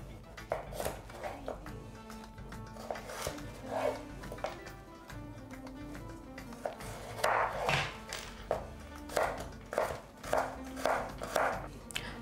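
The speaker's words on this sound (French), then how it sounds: "je vais découper mes carottes" Carrots chopped with a knife on a board during meal prep, a run of sharp, close knocks in uneven bursts, with a voice talking quietly underneath.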